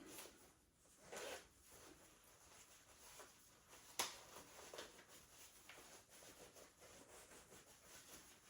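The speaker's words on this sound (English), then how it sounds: "Everything goes in the money belt. It gets zipped up." A money belt is zipped up with several quick zipper pulls and rubbing fabric sounds, faint and close, including one sharp tug midway.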